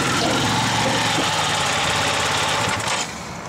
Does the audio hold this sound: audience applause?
no